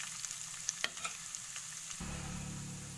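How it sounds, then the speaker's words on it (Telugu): Dried red chilies sizzle and crackle in hot oil for a curd rice dish, a steady close frying hiss with a few sharp pops and a stir partway through. "మంచిగా దూరగా నూనెలో వేయాలి."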